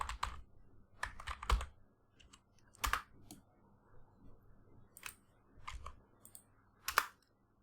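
Computer keyboard typing, close and fairly quiet: scattered single key clicks and short quick bursts with gaps between, against a quiet room.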